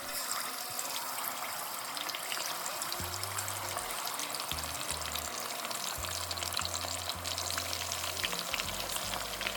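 About eight seasoned chicken wings fry in hot oil in a fryer, giving a continuous crackling sizzle with bursts of bubbling and occasional low rumbles, close up and with no talking.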